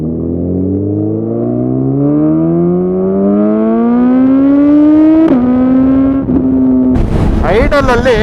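Suzuki Hayabusa with a Lextek exhaust revving hard: a loud engine note climbing steadily in pitch, then dropping and blipping with sharp throttle stabs at the end, very close.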